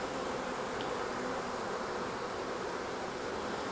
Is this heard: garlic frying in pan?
no